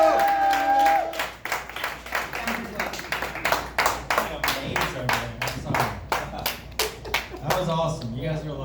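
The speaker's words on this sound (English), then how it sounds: "Please clap those hands and get very loud for David Merriken." Audience at a live show clapping and cheering for a performer, a dense run of sharp hand claps with crowd voices mixed in, loud and close, with some speech over the top.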